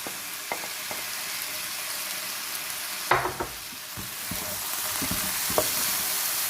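Fried chicken tossed into stir-fried vegetables in a hot pan: a continuous close sizzle that jumps louder as the chicken hits the oil midway, followed by a few utensil knocks and stirring scrapes; no talking.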